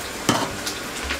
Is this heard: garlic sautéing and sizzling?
yes